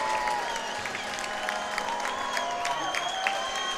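An arena crowd at a college hockey game between Arkansas and Ole Miss at the Jones Center cheers and applauds steadily after the tying goal, a dense, continuous roar with scattered whistles and a commentator's voice underneath.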